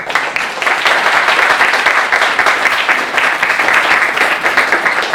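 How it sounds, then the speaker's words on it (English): Loud, sustained applause from an audience thanking speakers and participants at the close of an afternoon conference session, dense clapping that holds steady throughout. "Can we give them a round of applause?"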